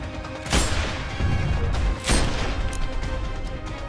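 Two heavy blasts about a second and a half apart ring out as mortar fire in Sniper: Ghost Warrior 2, each a loud broadband boom with a rumbling tail, over steady battlefield noise.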